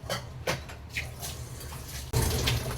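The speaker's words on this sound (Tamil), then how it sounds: "இப்போ நான் 2வது தண்ணியை ஆட் பண்ண போகிறேன்." Tamarind water is poured into a simmering fish curry (meen kulambu), a steady close liquid splash and gurgle that grows fuller and louder toward the end.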